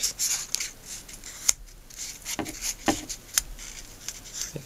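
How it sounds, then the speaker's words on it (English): Tape pulled and wrapped around a homemade blowgun tube to reinforce it, a series of close, sharp crackling rips and rubbing strokes, loud and irregular with short pauses between pulls. "I put a little more tape on here, reinforce this a little bit"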